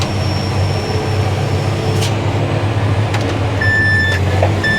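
A tractor engine labouring in first gear on a downhill slope, a steady low diesel drone with clanks and a short high whine near the end, no talk.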